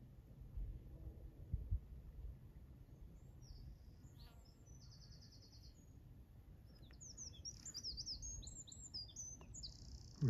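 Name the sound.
wrens singing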